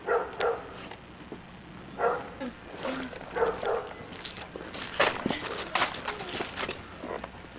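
A dog barks in several short, loud bursts scattered among footsteps and shuffling, close by, with brief whimper-like yips in between and no clear talk.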